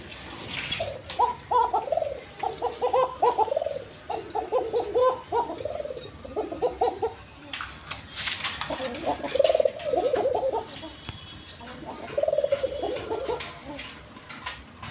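A pair of Kokka (Siraj Kokka) pigeons at a pigeon farm coo in repeated rounded bursts, several calls running in short rhythmic phrases from close by, with brief pauses and some background noise between them.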